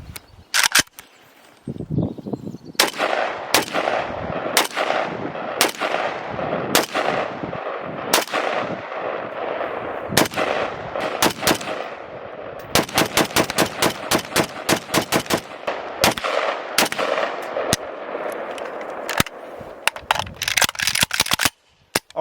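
A Galil ARM rifle fires at a steel target, sharp loud shots cracking out one by one at a slow, uneven pace, then bunching into a faster string of closely spaced reports.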